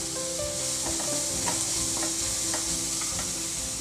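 Vegetables for upma sauté with salt in a hot pan, giving a constant close sizzle broken by repeated scraping stirs of a spoon against the pan.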